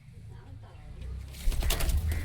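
Pet pigeons kept indoors at an old house give a short burst of soft low cooing that grows louder near the end, with a voice speaking nearby.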